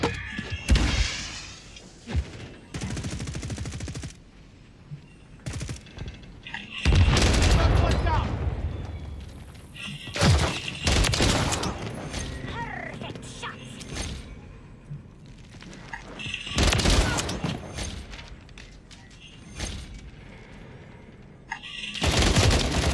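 Gunfire in Call of Duty Modern Warfare 3, with repeated sharp shots and bursts scattered through a busy game mix, some loud and close, with a person talking at times between the shots.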